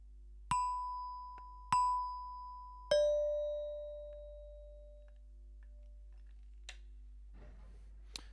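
Three chime bar notes struck one after another, two on the same pitch and a third lower, each ringing clearly and decaying slowly in a quiet room, followed by faint rustling and a light tap.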